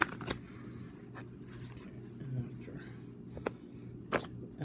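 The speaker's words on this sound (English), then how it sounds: "I'm gonna shuffle" Tarot cards being shuffled during a reading, heard as a few brief, crisp riffles and snaps spaced out over a low background hum, with no talk over them.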